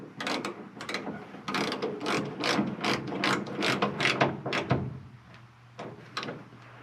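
A hand ratchet clicks in quick repeated bursts while bolting a turn signal harness back onto a car, each stroke a sharp metallic rattle, close and clear with no voices.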